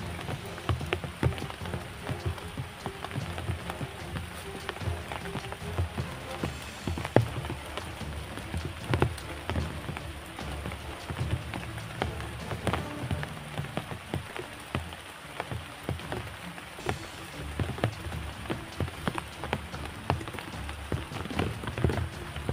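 Steady rain falls on a hard surface, with scattered louder drops pattering throughout, close and continuous, no voices.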